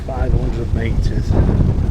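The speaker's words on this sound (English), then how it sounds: "God, that wind though now." Strong wind buffets the microphone during a bike ride near Richebourg cemeteries, a loud constant roar with gusty rumble, and a voice speaks over it.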